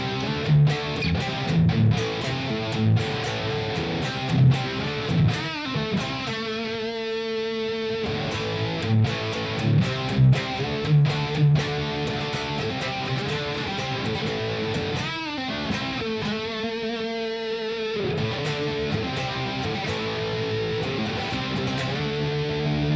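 An electric guitar through a Fender Mustang Micro headphone amp using a Vibratone rotary-speaker effect with reverb. Chords and notes swirl with a wavering, rotating modulation that stands out in held passages, played steadily throughout.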